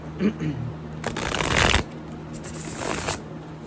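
A deck of tarot-style cards is shuffled close by, with a riffling flutter of card edges that builds to a dense burst, over faint background hum.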